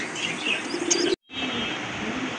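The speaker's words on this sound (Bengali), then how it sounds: "অসাধারণ এক জোড়া কবুতর দেখার মতো, একদম ফুল ফ্রেশ কবুতর" Pigeons chirp and coo steadily over a dense background of many pigeons at a pigeon seller's, with a brief cut to silence partway through before the chatter resumes.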